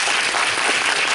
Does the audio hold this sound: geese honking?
no